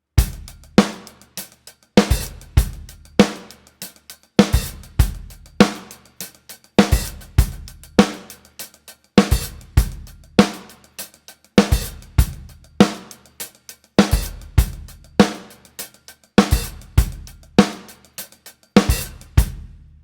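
A drum kit plays a steady groove with snare backbeats and tight hi-hats, including quick open hi-hat barks, repeating evenly and loudly.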